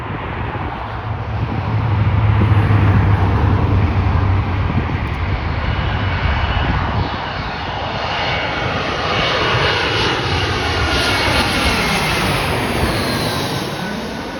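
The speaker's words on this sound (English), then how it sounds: "we got an Airbus A320-232 United Airlines from PHL," A United Airlines Airbus A320-232 jet from Philadelphia roars loudly at O'Hare, its engine noise building into a steady, broad rumble with a falling whine that holds for the full stretch, with no talk.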